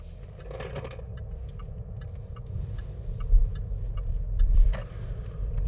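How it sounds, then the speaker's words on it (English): A loose locking wheel nut slides and rattles inside a 2019 Jaguar XF Portfolio Sportbrake automatic while driving, giving faint irregular ticks and small clunks over steady low road rumble, with two slightly louder knocks near the end. "In case you hear that noise, that's the locking wheel nut, which is sliding around in here."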